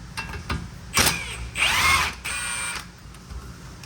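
Power tool working loose an 18 mm outer tie rod nut at the steering knuckle of a 2015 Chevy Sonic, heard as several short mechanical bursts and whirs in the middle of the clip, fairly close, with no talk.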